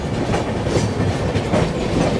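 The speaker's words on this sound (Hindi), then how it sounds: "देखो अब हमारी ट्रेन चली है" An Indian express train, the East Coast Express, rolling out, with a loud, steady rumble and rattling carriages all around and no talking.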